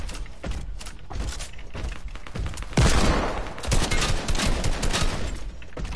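Rapid bursts of gunfire from a shooter video game crackle in dense, overlapping volleys, growing louder and heavier midway with sustained automatic fire.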